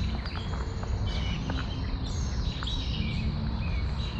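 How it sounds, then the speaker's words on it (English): Birds sing on a clear morning outdoors, with scattered chirps and short whistled calls that are faint to moderate over a low rumble of background noise. "Birds are really going crazy this morning."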